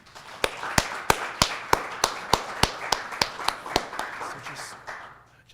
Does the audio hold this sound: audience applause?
yes